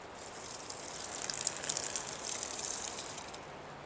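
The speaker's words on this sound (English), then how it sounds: "and then just pour out the water over here" Rinse water pours out of a cup through a mesh bag outdoors, a soft steady splashing trickle that swells in the middle and tapers off, faint and alone.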